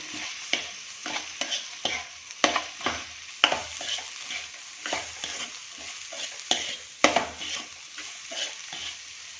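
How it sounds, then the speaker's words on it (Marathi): Raw jackfruit vegetable being stirred in a frying pan: repeated scraping strokes of a spatula against metal in an uneven rhythm over a quiet sizzle, close and clear with no voices. "भाजी छान असं मिक्स करून घ्यायची"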